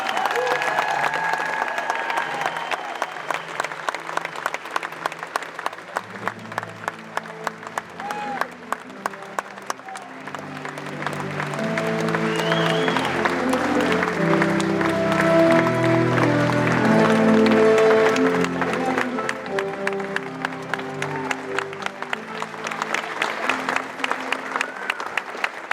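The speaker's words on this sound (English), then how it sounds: "please join us in a round of applause for the United States Army Infantry Squad" A crowd at a US Army basic training graduation at Fort Benning, Georgia, gives a round of applause for the United States Army Infantry Squad: sustained, full clapping that swells in the middle and carries on for the whole stretch.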